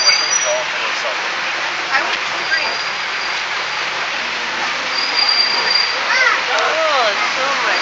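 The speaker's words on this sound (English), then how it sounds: "Oh, so much rain." Heavy rain pours steadily onto a moving car with springy suspension, a constant dense hiss of drops with occasional splashes and faint squeaks, no speech in the clip.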